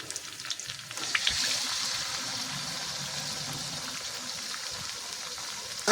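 Eggs sizzle and fry in a pan with onions already browned, cooking for pasta; a steady close hiss rises after the eggs go in and carries on with small pops, no voices.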